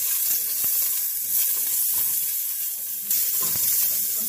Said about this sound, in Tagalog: Maglalagay tayo ng mantika. Lagay ang luya.